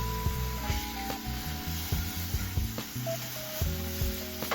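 Burger patty sizzling in a pan over medium heat on a stovetop, a steady close hiss and crackle with repeated dull clatter and scraping from utensils.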